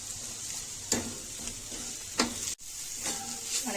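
Tomato and dried coconut fry in a pan with a soft, steady sizzle, broken by three sharp scraping stirs of a spatula.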